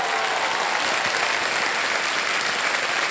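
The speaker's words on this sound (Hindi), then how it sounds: "बहुत बहुत बधाई, जोरदार तालियां" A studio audience at a televised quiz show breaks into loud, dense applause that holds steady and unbroken for several seconds, with no talk over it.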